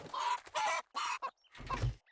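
A chicken in the survival video game 7 Days to Die clucks in a few short, close bursts, then gives a louder, lower squawk at the end.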